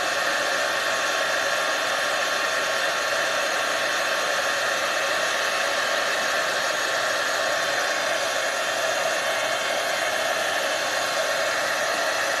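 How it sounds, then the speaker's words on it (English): A heat gun blowing hot air for heat embossing powder in papercraft, a constant loud close whooshing roar with no breaks or talk. "I love to heat emboss."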